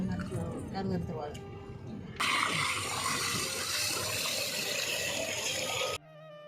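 Water gushes steadily from a garden motor pump outdoors, a loud continuous rushing that starts abruptly and runs for several seconds, with a voice speaking over it.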